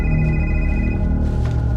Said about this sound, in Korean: 죽은 박사로부터 걸려온 전화.